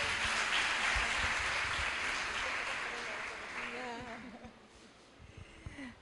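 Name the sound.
congregation applauding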